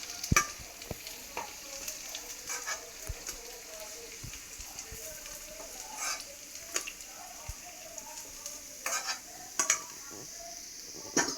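Veg bread balls deep frying in oil, a steady close sizzle with bubbling crackle and occasional utensil clinks and scrapes against the pan.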